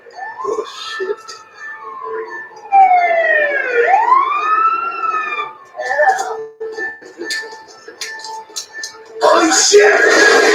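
Emergency vehicle sirens wail in rising and falling sweeps, loud and fairly close, with voices and other street noise around them before a burst of louder commotion.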